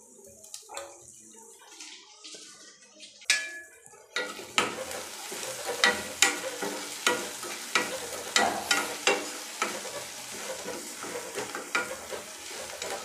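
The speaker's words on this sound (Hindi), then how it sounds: "थोड़ा सा हमारा ये प्याज भून चुका है। इसमें ऐड कर देंगे अपना अदरक और हरी मिर्च।" Onion frying in a pan with ginger and green chili added, a steady sizzle broken by repeated sharp scraping stirs of a spoon, close up and without talk.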